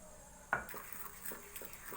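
A whisk works through cake batter with flour in a bowl, opening with one sharp metallic clank and then continuing as soft, repeated scraping and tapping close by.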